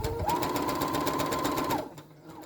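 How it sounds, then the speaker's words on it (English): A sewing machine running a narrow hem along folded chiffon, a steady close mechanical whir with a fast, even needle chatter for over a second before stopping abruptly, followed by faint handling noise. "So you're going to fold your fabric in a narrow hem and sew quite close to the folded edge."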